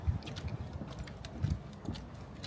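Horses' hooves clop on pavement at a Disney resort, several uneven steps sounding fairly close amid outdoor background noise.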